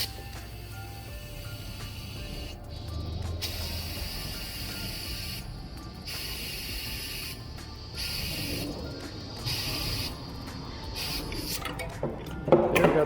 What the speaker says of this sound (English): go ahead and fill it up to 30 psi max